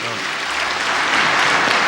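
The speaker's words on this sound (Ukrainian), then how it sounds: "викликав шквал оплесків у залі з словами українською: немає Європи без України" Dense, loud applause fills the Verkhovna Rada hall in Kyiv, a sustained wash of many hands clapping that swells slightly toward the end.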